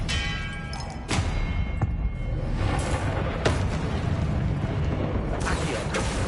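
Expelliarmus spell impacts in Hogwarts Legacy, heard as heavy magical booms and thuds that strike around the one-, three-and-a-half- and five-and-a-half-second marks over a constant dense rumble of game sound.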